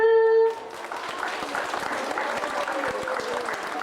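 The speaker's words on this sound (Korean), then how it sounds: "다 같이 박수!" A Christmas recital audience at Jeju Youngnak Church's small chapel bursts into steady, dense applause after a brief sustained musical tone, the clapping filling the room evenly for several seconds.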